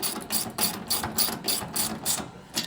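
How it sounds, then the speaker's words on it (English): A 7/16 ratchet clicks rapidly in repeated bursts while tightening a bolt on a rack height PAK system install, each stroke a quick run of pawl clicks with short pauses, close and fairly loud. "Go ahead and just tighten this up with my 7/16 ratchet."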